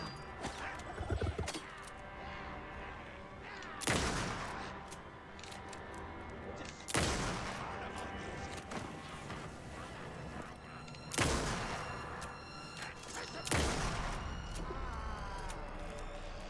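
Gunshots in the video game Alan Wake 2 ring out as four loud, widely spaced blasts, each followed by a lingering tail over a steady ambient game soundtrack.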